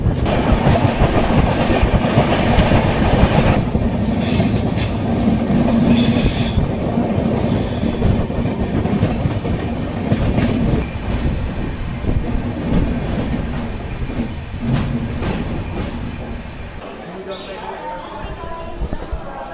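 A passenger train on the Kolkata to New Jalpaiguri route gives a loud, steady rumble of rail carriages with squealing wheels, easing off near the end, with voices faintly audible underneath.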